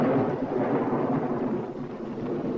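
Steady rain with low thunder rumbling outside a house on a stormy evening, a continuous broadband wash heard alone at moderate level throughout.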